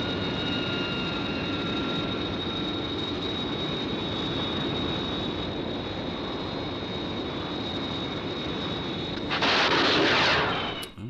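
Angel fighter aircraft engage in combat in the Captain Scarlet and the Mysterons video game: a dense, continuous roar of engines and gunfire runs throughout and swells into a louder burst near the end.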